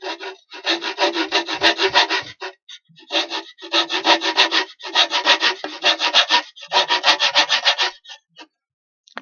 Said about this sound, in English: I take a very sharp saw with fine teeth and carefully saw off